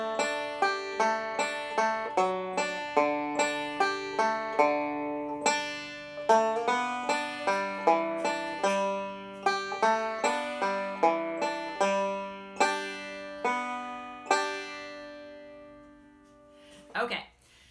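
A plucked banjo phrase built on D licks plays alone, with quick rolling picked notes in a steady bouncing rhythm ending on a held note, clear and close.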